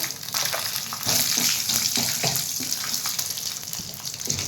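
Curry leaves and broken dried red chillies sauté in hot oil for an idli sambar tempering, giving a steady, close sizzling hiss with light stirring scrapes throughout.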